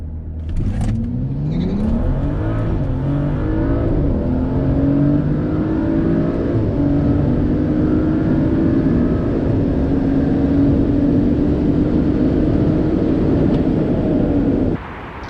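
A BMW M235i accelerating hard down a drag strip, a loud close engine note rising through the gears with pitch sweeps climbing after each shift, continuous for the whole run before cutting off at the end.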